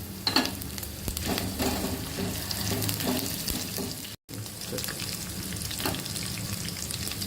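Green chillies frying in hot oil, giving a loud, continuous close sizzle with scraping stirs, and one brief dropout partway through.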